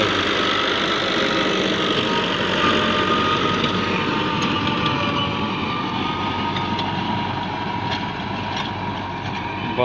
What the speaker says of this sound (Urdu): یہ ٹریکٹر زمین کو ہموار بھی کر رہا ہے